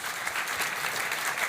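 An audience applauds a guest at a talk on demographic change, a dense, even burst of clapping from many people that fills the short moment without pause.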